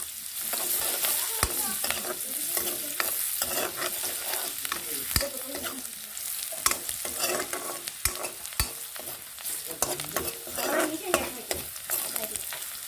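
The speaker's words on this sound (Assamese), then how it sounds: "যিহেতু মই হাই ফ্লেমত ভাজি আছোঁ" Garlic sizzles loudly in a pan on a high flame, with frequent sharp clinks and scrapes of stirring cutting through the steady crackle.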